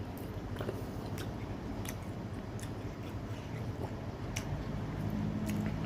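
Steady close-up chewing of crunchy pork skin, wet, crunchy bites repeating continuously, no talking.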